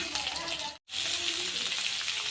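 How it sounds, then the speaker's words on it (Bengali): Potatoes fry in a pan with a steady, dense sizzle that carries on throughout, broken only by one very brief gap near the start, with no voices over it. "আলু খুব ভালোভাবে ভাজানো হয়ে গেছে"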